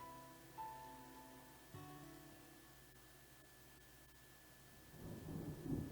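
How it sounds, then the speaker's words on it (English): Thunder snow in the video game Deadly Premonition 2: a low, heavy rumble swelling up near the end under a quiet tonal ambient backdrop, with no voices. "Big black cumulonimbus clouds are in the sky. And that sound. Thunder snow is coming."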